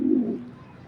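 A male racing pigeon gives one close, loud coo that swells and then trails off into a soft tail, heard on its own with no voices.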